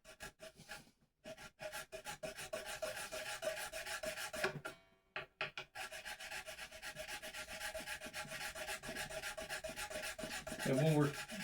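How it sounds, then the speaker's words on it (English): A file rasps back and forth in a string slot of a Les Paul Jr guitar nut, a steady close scraping broken by two short pauses. "when we're filing the slot, we want to definitely go at a little bit of an angle"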